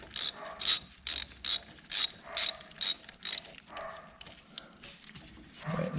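Ratchet wrench tightening a bolt on a Honda 928WAS snowthrower during auger and drive belt work, heard as a run of about eight sharp, close clicking bursts in quick rhythm that trail into quieter handling noise.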